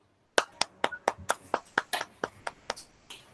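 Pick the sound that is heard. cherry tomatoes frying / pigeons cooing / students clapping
students clapping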